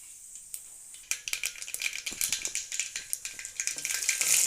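Mustard seeds crackle and pop in hot oil for a South Indian tempering, a dense run of sharp close snaps that starts sparse and quickly builds into a steady sizzling patter.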